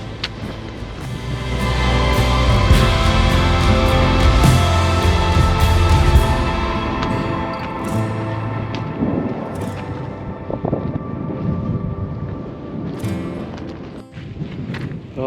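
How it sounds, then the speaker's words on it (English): Wind gusting on an exposed mountain hike up Helvellyn in rain, a loud broadband rush that swells and eases with occasional buffeting bumps against the microphone. "The wind's picking up a little bit though, you could probably hear."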